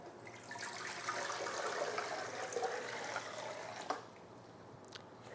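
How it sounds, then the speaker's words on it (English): Water poured into a Ninja blender jar, a steady splashing rush that holds for about four seconds before stopping abruptly, leaving faint quiet after. "add in the water"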